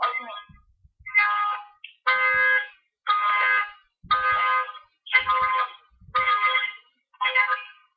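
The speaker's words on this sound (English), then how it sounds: "Your car alarm is going off." A car alarm blares in repeated electronic bursts, eight loud pulses of about half a second to a second each with short gaps between them, sounding alone with a few faint low thumps underneath.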